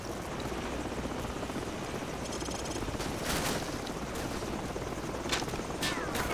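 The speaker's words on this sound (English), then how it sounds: "That helicopter's making another pass." Steady broadband rotor roar of a helicopter overhead in Call of Duty 4: Modern Warfare, constant and fairly loud, with a few sharp cracks like gunfire near the end.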